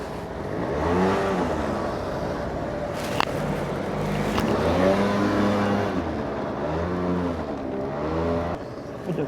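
A motorcycle engine runs steadily close by, its pitch rising and falling through a few slow revs as the bike is maneuvered into a parking spot, with no voices over it.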